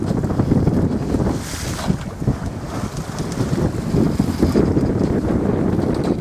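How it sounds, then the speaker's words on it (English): Wind buffets the microphone while waves slap and rush around a small boat at sea off Mallorca, a loud, gusty, uneven wash with repeated thumps of water against the hull. "Because of the waves and the way the wind is."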